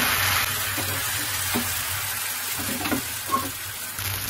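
Thin rice-flour batter for chakli pitha cooks on a hot, lightly oiled nonstick tawa over a gas flame, a soft continuous sizzle with faint scraping touches, close and steady without talk.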